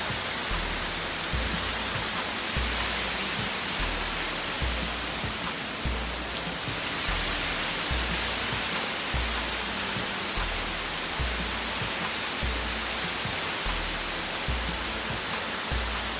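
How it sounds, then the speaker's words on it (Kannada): Heavy rain with strong wind during a storm in Bengaluru, a dense, unbroken hiss of downpour that stays loud and even throughout, with low rhythmic thumps underneath and no voices. "ಮುಂಜಾನೆ ನಗರದ ಹಲವೆಡೆ ಭಾರೀ ಮಳೆಯಾಗಿದ್ದು ಜೋರಾಗಿ ಬೀಸಿದ ಗಾಳಿಗೆ ಮರಗಳು ರಸ್ತೆಗುರುಳಿವೆ"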